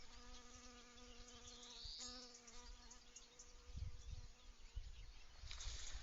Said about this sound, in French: il y a une abeille qui butine